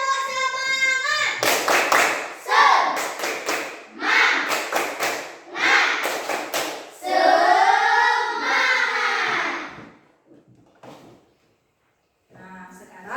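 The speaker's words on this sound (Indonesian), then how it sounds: "mari kita tepuk semangat" Schoolchildren in a classroom perform the tepuk semangat clapping chant, loud rhythmic bursts of claps mixed with chanted voices in several phrases, then a brief pause and a final clap sequence.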